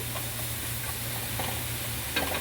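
Garlic being stirred and mixed in a hot, sizzling pan for seafood garlic bread, a steady close sizzle with soft scraping strokes and a louder clatter near the end, no voices.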